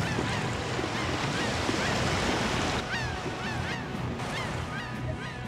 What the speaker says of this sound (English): Seagulls.